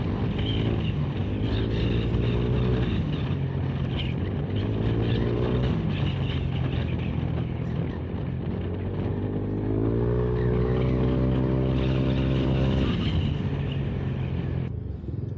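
Kymco KRV 180 scooter fitted with an aftermarket exhaust, riding along: a loud, continuous buzzing exhaust note that rises and falls in pitch through several throttle surges and gear-like sweeps, close and steady, without speech.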